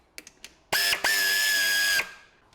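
Power tool driving starter motor bolts on a Ford Transit Connect, a few faint taps followed by a loud high-pitched whirring burst lasting over a second that stops abruptly.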